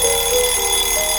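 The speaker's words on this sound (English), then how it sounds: "Thanks so much for the alarm clock to work there." An alarm clock going off, a steady continuous electronic ringing tone held loud and unbroken for the whole moment, with no voices over it.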